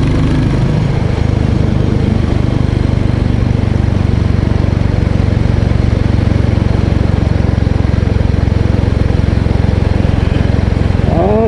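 A Royal Enfield 350 Bullet from 2024 ridden along small country roads, its engine running as a steady loud low drone throughout, with rushing wind noise and no talk.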